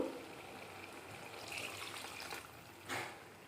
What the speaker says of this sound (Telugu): వాటర్ ఉంది కదా, అది పోస్తున్నాను.